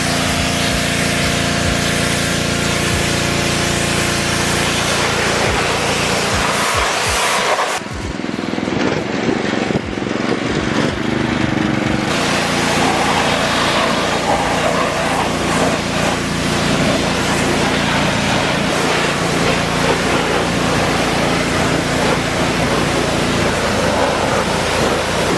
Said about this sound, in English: You see the spot where the pressure washer hits?